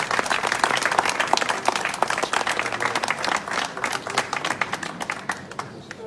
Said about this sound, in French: on peut applaudir Alain Brulé, un grand monsieur qui fait beaucoup pour les baronnies.